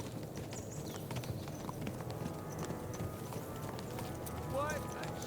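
Horse hooves clip-clopping in the medieval video game Kingdom Come: Deliverance II, a steady patter of hoofbeats among a busy crowd of horses and ambient bustle, with a brief whinny near the end.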